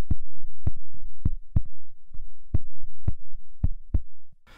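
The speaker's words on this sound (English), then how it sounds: "The stomper is very low frequencies, just a low thump" Low, dull thumps from a DIY foot-stomped box drum, raw and unprocessed, struck in a loose repeating rhythm, dry and close with brief decays between hits.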